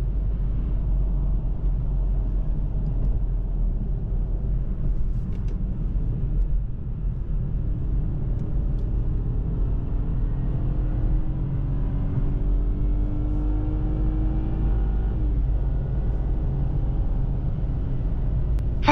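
A BMW 118i (F20), a rear-wheel-drive hot hatch, cruises on the road with a steady, subdued engine hum under low road and tyre rumble. The sound is continuous and quiet from inside the cabin, with no talk.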